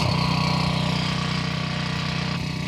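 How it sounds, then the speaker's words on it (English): Power Joe SJG4100LP-TV1 portable propane generator running with a close, steady mechanical drone and a rapid regular pulse, with a slight change in tone near the end. "hold down the start button until it turns on"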